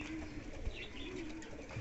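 High flyer pigeons coo softly and steadily at close range, a low murmuring drone with a few faint chirps mixed in, no talking.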